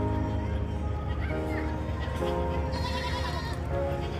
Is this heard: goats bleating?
yes